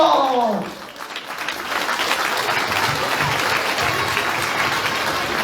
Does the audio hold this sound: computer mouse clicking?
no